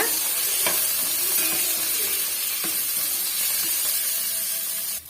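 Onion, garlic and curry leaves sauté in a pan with a steady close sizzle, broken by a few scraping stirs of a spoon across the pan, with no talking.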